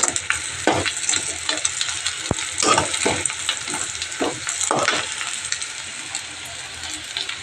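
Vegetable fritters sizzle in hot oil in a wok, with a steady crackling hiss broken by repeated scraping and clattering stirs of a spatula against the pan, close and fairly loud, with no voices.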